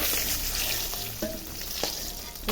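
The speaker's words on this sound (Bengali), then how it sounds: "ডিমগুলো ভেজে নিচ্ছি।" Eggs frying in oil give a soft, continuous sizzle with a few faint clicks and scrapes of a utensil, quiet and close, with no talking.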